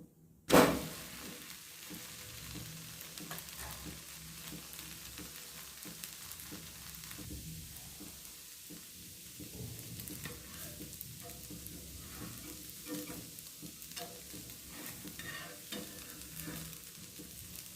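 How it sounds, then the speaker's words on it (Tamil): A soft dosa cooks on a pan with a faint, steady sizzle, opening with a brief sharp scrape as it is flipped over, then quiet continuous frying. "தோசை நல்லா வெந்துட்டு இதை மாற்றி போட்டுக்கிடுவோம்."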